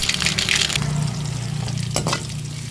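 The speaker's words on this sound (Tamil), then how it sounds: "எண்ணெய் நல்லா சூடாகிடுச்சு கடுகை போட்டுருவோம் அப்படியே" Mustard seeds sizzling and crackling in hot oil in a pan while egg gravy is started, a steady, dense, close frying hiss with no talk.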